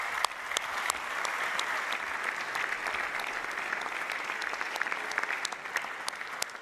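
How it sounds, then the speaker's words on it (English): A large audience applauds at the World Cup draw ceremony, a steady dense wash of clapping that holds evenly loud throughout with scattered sharper individual claps standing out. "Big applause."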